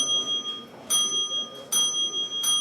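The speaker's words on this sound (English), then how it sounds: "Pete and Ryan will start ringing the bell thusly" A small bell rings in quick bright strikes, about three clear bursts in under three seconds, over a low murmur of background noise; the strikes come close together, as if the pace is picking up.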